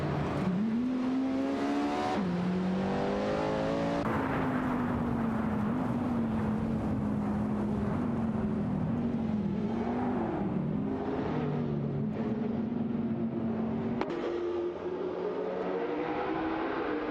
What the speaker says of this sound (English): Racing car dashing away